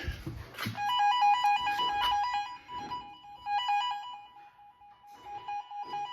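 A wire tracer emits a repeating electronic warbling tone, steady pitched beeps cycling on and off over several seconds, fairly faint with some background noise.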